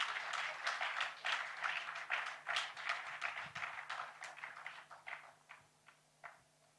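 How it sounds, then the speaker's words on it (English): A small audience at a corporate wellbeing session applauds, its individual claps distinct and rhythmic at first, then thinning out and fading to a few scattered final claps. "Let's give them a round of applause, please."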